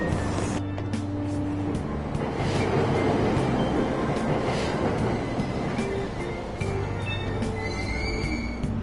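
Train pulling away from a station platform in Persona 5 Royal, a dense rumble of wheels and carriages with faint squeals, steady and fairly loud throughout.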